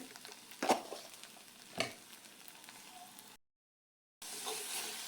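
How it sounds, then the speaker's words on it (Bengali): A spice paste of coriander and cumin powder with salt fries and is stirred in a pan, a steady close sizzle marked by a couple of sharp stirring scrapes, then a brief silent gap before the sizzling resumes. "মশলাটা আমি 2 মিনিট ভেজে নিলাম"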